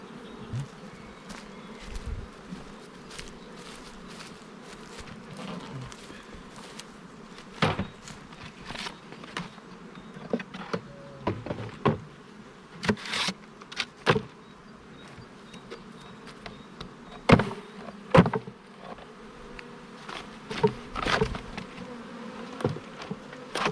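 Honeybees buzzing around an open beehive while a colony is split to create a new swarm: a continuous close drone of many bees, with individual insects passing near and occasional handling knocks and clicks outdoors.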